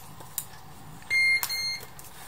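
Small handheld load tester giving short electronic beeps while checking household wiring during a 3-way smart light switch install; a faint blip, then a sustained tone followed by a few quick bursts in a quiet room.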